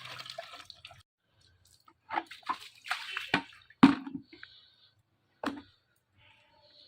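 Water splashing in short bursts while someone washes during a cold-weather bath, scattered splashes and pours separated by quiet pauses, close and moderately loud.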